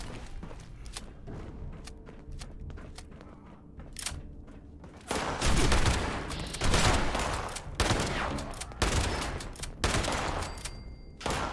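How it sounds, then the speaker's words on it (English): Gunfire in Fallout 76, bursts of rapid shots and heavy booms growing louder and denser in the second half, with short pauses between volleys. "10 shots right there just to kill them"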